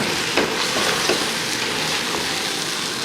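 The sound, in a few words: stirring rice into tomato stew on high heat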